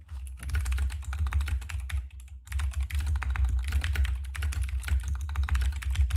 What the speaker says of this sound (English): you're typing, bro